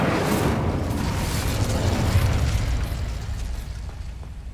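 A fire spell cast in the Hogwarts Legacy video game gives a loud, sustained roaring whoosh with deep rumble, holding steady for several seconds before easing slightly toward the end.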